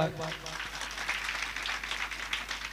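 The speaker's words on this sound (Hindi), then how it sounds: "कैसे बजना चाहिए ताली। चलो बजाओ एक बार।" A crowd gathered for a Chhattisgarhi Ramayana recital claps together, a fairly soft, continuous rattle of many hands with some talk over its opening.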